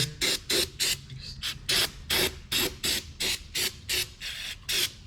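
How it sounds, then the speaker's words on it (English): Repeated short bursts of ether aerosol spray hissing close by on a Cat 735 parking brake part, about a dozen quick pulses with brief gaps between them. "I'm gonna shoot a little ether on here."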